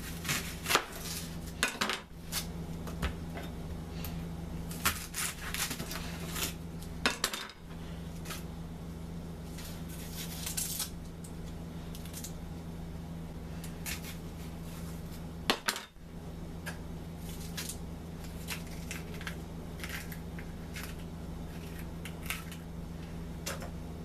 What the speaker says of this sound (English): Now it's time to cut the onion.